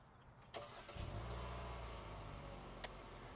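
A 2020 Hyundai Venue SEL is remote-started: a quick cranking catch settles into a low, steady idle rumble. It sounds fairly quiet, as if heard from outside the car, with a faint click near the end.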